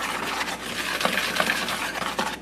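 Whisking and stirring gingerbread cheesecake batter in a bowl, a continuous close scraping and rustling with light clinks of the utensil against the bowl, quick and even, with no talk.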